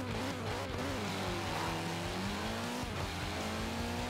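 Ken Block's Ford Escort Cosworth accelerates in Forza Horizon 4, its engine revving up through rising gear pulls with a brief shift dip, loud and close with no talking.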